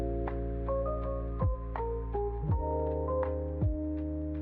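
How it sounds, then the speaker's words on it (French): A microwave oven runs with a steady, droning low hum throughout, while fainter tones above it shift pitch in small steps; no one talks. "Désolée pour le bruit du micro-ondes."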